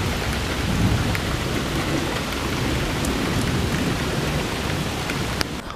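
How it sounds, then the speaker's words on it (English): Heavy rain pours down in a steady, dense roar during a close thunderstorm with gusting wind. A sharp crackle near the end may be nearby lightning. "we just had lightning hit very close, and it's getting very windy"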